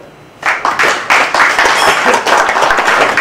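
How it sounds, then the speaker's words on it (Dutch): An audience applauds the efforts of the HKL at a kickoff event, with a sudden burst of dense clapping that starts after a short quiet moment and keeps going steadily. "dat vind ik al een heel groot applaus waard voor de eh, inspanningen van de HKL"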